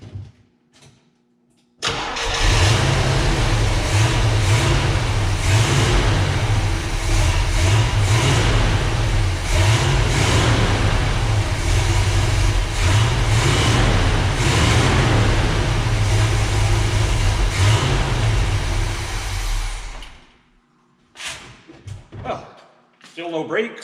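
A 1978 Trans Am V8 cranks and fires, then roars and revs hard for nearly twenty seconds, very loud and close, before cutting off into quiet.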